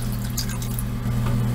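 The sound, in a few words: pouring water into pot of red beans and rice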